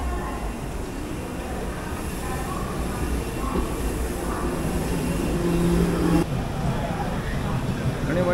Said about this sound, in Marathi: ती बघा आपली येते लोकल